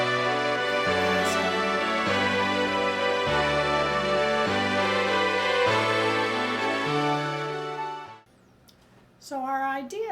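Dense stacked canon of 27 melodies layered over a repeating eight-note ground bass, played by a youth orchestra, with steady sustained harmonic texture stepping through the bass line before cutting off near the end, followed by a short rising tail.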